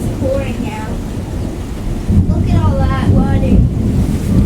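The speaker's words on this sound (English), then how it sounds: "It's pouring now." Heavy pouring rain during a lightning storm in Victoria, BC, a constant roaring wash buffeted by wind noise, with people talking excitedly over it.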